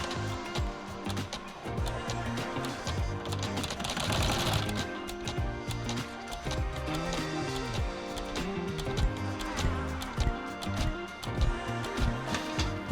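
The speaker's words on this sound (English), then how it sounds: "it's going to sew the patch down" An embroidery machine sews a patch down, a dense continuous mechanical chatter with rhythmic tapping that runs evenly and loudly throughout with no talking.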